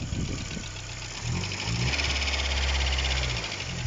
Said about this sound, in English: And vehicle is idling.